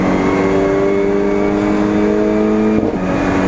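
Race cars at Donington Park circuit in a touring car race, a loud, sustained engine drone with steady pitch as cars pass close by, a brief dip near the end, with no talking.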